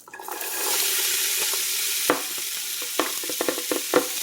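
Onions sizzle steadily in a hot pan on medium heat as they turn dark brown, with a few sharp scraping clicks from stirring toward the end.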